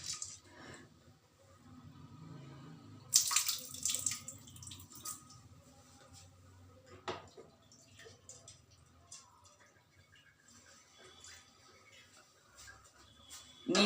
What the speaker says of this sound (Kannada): ಹೀಗೆ ಚೆನ್ನಾಗಿ ತೊಳೆದು ಒಂದೆರಡು ಸಲ